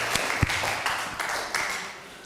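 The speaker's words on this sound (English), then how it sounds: "Could we please have a round of applause for an excellent presentation?" An audience at a Sunday forum applauds after a presentation, with moderate continuous clapping and a few sharper individual claps standing out, fairly close and steady throughout.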